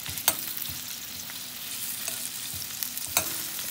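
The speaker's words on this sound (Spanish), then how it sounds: "le vamos a dar una pasadita nomás para que la cebolla así se ponga como asadita" Onion searing lightly in a hot pan for a spicy habanero salsa, a steady close sizzle with a few sharp scraping stirs breaking through, no voices.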